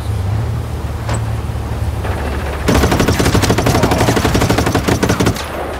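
Rapid automatic gunfire in Just Cause 3 strikes the player, a dense, loud rattling burst lasting a few seconds over a steady vehicle-like engine rumble, preceded by quieter engine noise.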